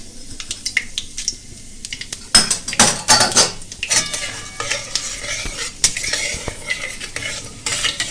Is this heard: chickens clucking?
no